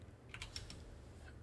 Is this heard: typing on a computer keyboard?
yes